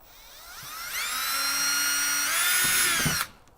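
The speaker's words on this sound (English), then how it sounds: "drill a pilot in each of these holes" A power drill boring pilot holes during a rear hatch release install on a Cruiser Outfitters 200 Series: a high, whining motor spins up, holds steady under load for a couple of seconds, then cuts off abruptly, close and loud.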